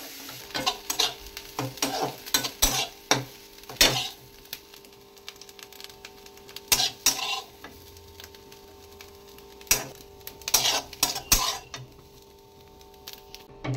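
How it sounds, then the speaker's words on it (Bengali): Grated carrots frying in a pan to dry out their water, a low sizzle punctuated by frequent sharp scrapes and clatters of a spoon stirring against the metal, with quieter stretches between bursts. "এই দেখো গাজরটা আমি ভাজা বসিয়ে দিয়েছি, এর মধ্যে থেকে জলটা শুকিয়ে নেব।"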